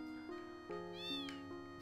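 A cartoonish cat meows in Final Fantasy VIII, one rising then falling mew over steady, sustained game music tones, clear and fairly close.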